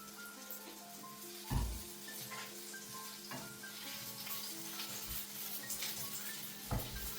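Eggplant frying in oil in a pan for a Mediterranean summer salad: a faint, continuous sizzle with occasional soft knocks and scraping stirs of a utensil against the pan.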